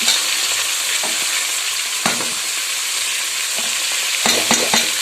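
Chopped tomato and fenugreek leaves go into half-cooked vegetables frying in oil for a vegetable pulao, giving a loud, steady sizzle broken by a few scraping stirs and clatters.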